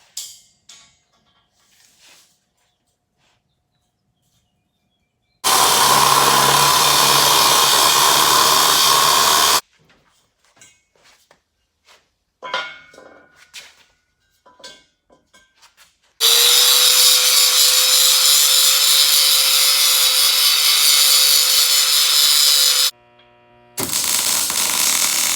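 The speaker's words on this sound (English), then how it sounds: "we need to try to cut a 53-inch piece that'll go across there" A 53-inch metal piece for a NASCAR chassis cart is cut with a power saw in two loud, sustained bursts of about four and seven seconds. Quieter handling clatter comes between them, and a short final burst closes the stretch.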